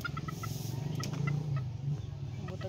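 Chickens clucking in a rural yard in the Philippines, a steady stream of short repeated clucks at close range over a low background hum, with no talk.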